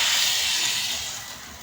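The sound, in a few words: sizzling hiss of tempering (vaghar) for sev khamani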